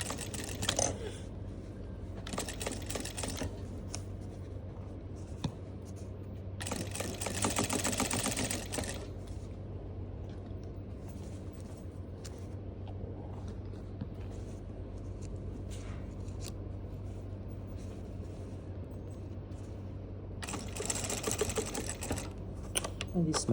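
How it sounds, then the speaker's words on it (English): A sewing machine top-stitches a pair of pants in several short, buzzing bursts of rapid stitching. Between the bursts come long stretches of softer handling noise and a low background hum. "Then you do a top stitching line here."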